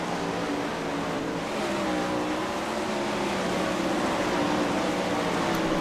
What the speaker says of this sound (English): let you guys really appreciate the sound of these engines and the views of these cars going around here